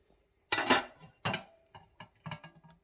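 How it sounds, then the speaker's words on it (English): A metal lid set onto a cooking pot while making Thai beef and sweet potato curry, a couple of clanking knocks followed by several lighter clinks as it settles, close and otherwise quiet. "Put the lid on."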